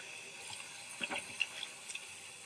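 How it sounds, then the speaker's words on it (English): Tap water runs softly over a sink while a chemical bottle is rinsed, with faint splashing and a few small clinks, quiet and close. "I would go ahead and rinse it with water in case any chemical drips"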